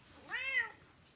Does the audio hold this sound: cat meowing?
yes